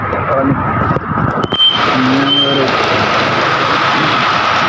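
Heavy rain pours down steadily as a broad, continuous hiss, with someone speaking over it and faint traffic sounds in the background.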